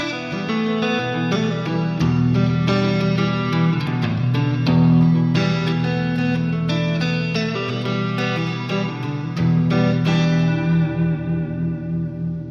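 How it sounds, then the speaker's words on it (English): Electric guitar chords played in a rhythm part through an effects unit with reverb and chorus, so they ring wet rather than dry. Steady strummed chord hits sound close and loud with no talking over them. "And already my chord sounds a little bit less dry"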